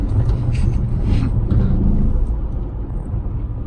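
A 2011 Infiniti M37x with a V6 engine accelerates uphill onto a bridge, heard from inside the cabin as a loud, steady low engine rumble and road noise that eases slightly toward the end.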